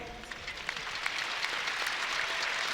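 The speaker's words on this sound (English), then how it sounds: "give a big round of applause" Applause at an archery freestyle championship shoot-down, a steady wash of clapping that builds slightly in the arena after an eliminated competitor is named.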